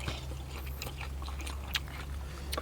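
Food being chewed with soft crunchy bites, close to the mic, over a steady low hum, during a meal of Thai blood larb and bitter koi with sweet liver.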